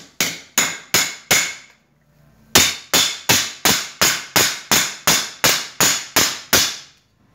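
A wooden mallet pounds a sheath on a wooden forming block: four sharp, evenly spaced knocks, a short pause, then a steady run of about a dozen more, each strike loud and close with a quick decay.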